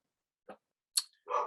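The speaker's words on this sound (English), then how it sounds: "that's my dog Munchkin" A pet dog barks indoors, two or three short, close, moderately loud yelps with brief gaps between them, with no talking over them.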